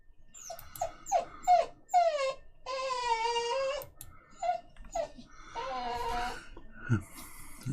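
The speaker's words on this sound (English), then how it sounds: "Zaki just likes to squeak." A dog named Zaki squeaks and whines close by in a string of high, wavering cries, some short yelps and some longer drawn-out whimpers, with brief pauses between them.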